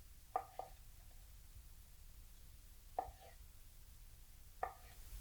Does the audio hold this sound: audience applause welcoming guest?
no